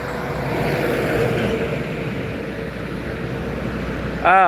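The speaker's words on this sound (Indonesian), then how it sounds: "Besi itu bus di seberang jalan melintas. Yang Jetbus 3." Jetbus 3 bus passing on the road opposite, a broad rushing roar of traffic that swells and fades, with a sharp tonal burst near the end.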